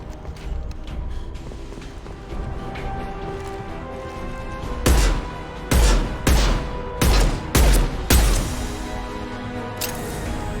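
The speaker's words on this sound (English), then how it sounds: "Firing concussive shot." Concussive Shot ability fired in the game Mass Effect 2, a run of loud booming blasts in quick succession over steady ambient combat noise, with one more impact near the end.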